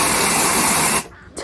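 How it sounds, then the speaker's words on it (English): Dry shampoo sprayed into hair gives a steady, close aerosol hiss for about a second before cutting off abruptly, with a brief faint trace afterwards. "I'm just going to put dry shampoo in it"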